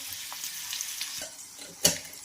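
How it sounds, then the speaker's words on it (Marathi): Batter-coated okra fries in oil in a pan over a medium flame, giving a soft, steady sizzle with light stirring and scraping and one sharper clatter near the end; no voices. "मिडियम गॅसवर आपल्याला हे फ्राय करायचे आहे"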